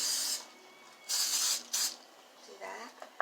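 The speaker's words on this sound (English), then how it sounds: "So I sprayed it with some non-stick spray." Non-stick cooking spray hisses from an aerosol can onto a pancake pan in several short bursts of varying length, close and fairly soft, with a faint sizzle between them.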